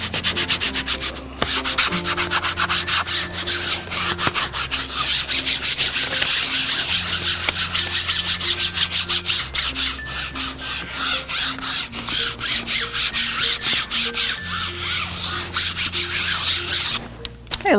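A burnisher rubbed steadily over the corner of a printing plate to press a plate mark, a loud, close, continuous rhythmic scraping with even back-and-forth strokes under quiet background music.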